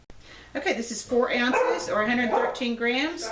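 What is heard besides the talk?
dog barking in the background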